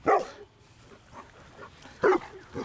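Dogs bark near and loud, one sharp bark at the start and another about two seconds later, with quieter household noise between them in a garden with fruit trees.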